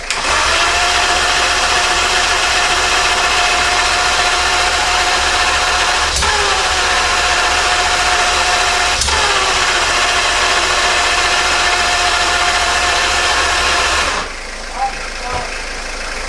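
A Ferrari Testarossa engine running rough with no ignition on the left side, a loud steady idle drone with a couple of sharp knocks, cutting out near the end.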